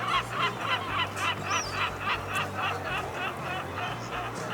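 Gulls call repeatedly at a fishing harbour in Essaouira with blue fishing boats and a seafood market, a steady series of squawking cries over constant harbour background noise.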